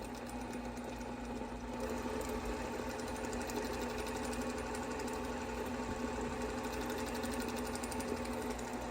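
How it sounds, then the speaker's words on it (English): A Brother PQ1500SL semi-industrial sewing machine winds its bobbin with a steady, continuous mechanical whir and hum, close and fairly loud, with no pause across the stretch. "I'm winding the bobbin."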